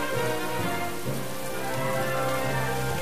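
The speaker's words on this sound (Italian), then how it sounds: "Ok, qua piove." Rain falls steadily in the role-playing game Atelier Ryza 2, a constant soft hiss under low droning game music, with no voices.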